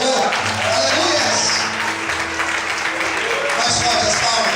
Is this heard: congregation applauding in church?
yes